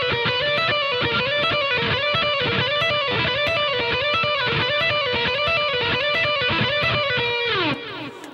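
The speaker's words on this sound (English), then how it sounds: "What I'm doing there is the same idea," A distorted electric guitar plays a repeating lead lick, a loud, sustained run of notes cycling rhythmically before a final bend and fade near the end.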